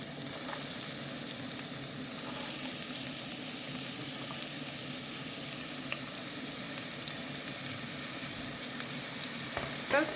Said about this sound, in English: The olive oil is hot. Then guys, we are gonna first add our chopped onion.